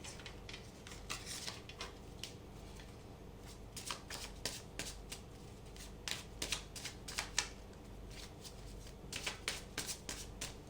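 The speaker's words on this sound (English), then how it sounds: "Let's cut the deck and start with your reading." A deck of tarot cards is shuffled and cut by hand, giving repeated soft, riffling bursts and quick papery taps in an uneven rhythm, close and fairly quiet, with no talking.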